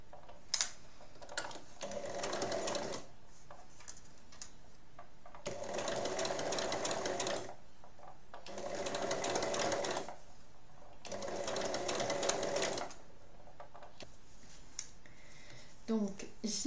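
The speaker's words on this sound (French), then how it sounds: "il faut coudre tout doucement" A sewing machine stitches a small half-moon fabric pouch, running slowly around a curved seam in four separate bursts of a few seconds each, with quiet pauses between them and a few faint clicks.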